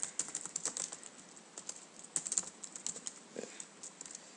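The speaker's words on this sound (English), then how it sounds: "Let's just type in," Quick, light keystrokes on a computer keyboard patter in an irregular stream, close and fairly quiet, with a brief pause near the end.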